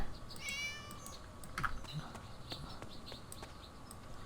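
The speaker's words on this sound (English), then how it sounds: "What's up, kitty?" A cat meows in the Divine Divinity video game, a short faint mew early on followed by scattered soft clicks and ticks in a quiet scene, no speech.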